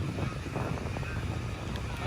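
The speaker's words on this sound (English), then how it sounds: "We finna leave the beach because it's real windy." Strong beach wind buffets the microphone in a continuous, uneven rumble with gusty swells, filling the short stretch with low blustery noise and no clear speech.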